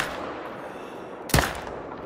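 A single sharp rifle shot rings out at a lion in theHunter: Call of the Wild, sounding loud and close over a steady low ambient wash of outdoor background noise.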